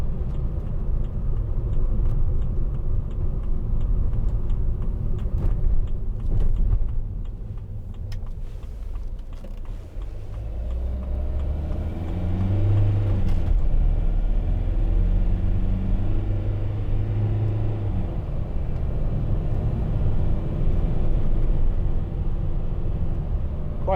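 A 2009 Mercedes-Benz Vito 115CDI van drives and accelerates, its steady low engine rumble and road noise swelling as it pulls harder midway through.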